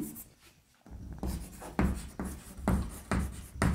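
Pen writing a table of interest rates on paper during a maths lesson: rhythmic scratchy strokes, close and clear, in repeated bursts after a brief pause, with no talking.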